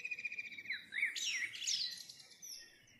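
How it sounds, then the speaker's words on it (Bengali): Birds chirp and trill in a quiet outdoor setting on an island, a few clear, fairly faint calls with rising and falling whistles and no voices. "পাখির কিচিরমিচির ছাড়া তো কিছুই শোনা যাচ্ছে না"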